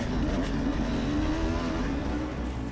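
A Yamaha Tenere 700 off-road motorcycle races over a gnarly track in the Red Bull Romaniacs, its engine droning and revving steadily at a moderate distance, with no voices.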